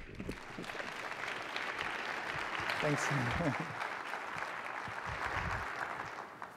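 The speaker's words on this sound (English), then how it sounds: "join me in giving him a round of applause" An audience applauds as a doctor is welcomed to the stage at a talk, producing a steady wash of clapping while someone briefly speaks over it.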